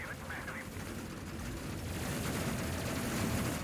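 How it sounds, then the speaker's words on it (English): Heavy turrets on enemy ships open fire in the space game Space Crew, a continuous rumbling barrage that swells louder over a few seconds, with a faint voice murmuring beneath. "these guys park right beside us and open up heavy turrets"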